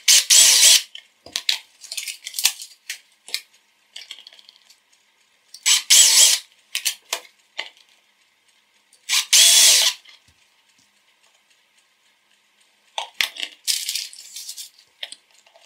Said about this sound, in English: I'll try drilling it.